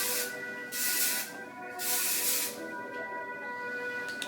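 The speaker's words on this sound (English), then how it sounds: "Just a light mist of hairspray." Hairspray misted from an aerosol can held well away from the hair, two long hissing bursts with a shorter one after, soft and steady with no talking.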